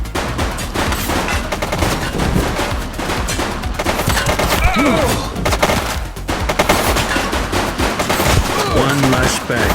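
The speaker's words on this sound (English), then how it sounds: "She's shooting!" Gunfire in the police video game The Precinct: rapid, dense bursts of shots in a sustained volley, loud and close, with brief dips between salvos and shouted voices mixed in.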